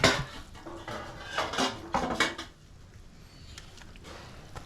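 Washed rock fish dropped into a pot of simmering mango fish curry, giving a few clattering, clinking knocks of metal cookware and utensils up close, fading to quiet kitchen background.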